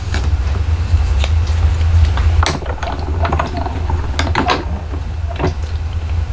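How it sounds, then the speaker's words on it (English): Plastic and metal clatters and clicks as a die cutting machine is reassembled, irregular handling knocks close by over a steady low hum. "Put my die machine back together."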